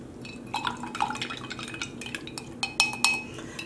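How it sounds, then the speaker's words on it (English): Jars of yarn dye solution, mixed from lightest to darkest, being stirred: repeated glassy clinks and scraping taps of a stirrer against the jar walls, close and moderately loud, with a few sharper knocks near the end and no talk. "for stirring these up, I'm going to start with the lightest one and go darker and darker"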